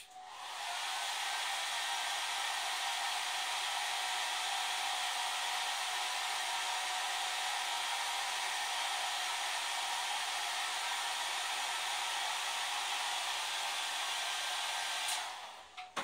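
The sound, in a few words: hair dryer blowing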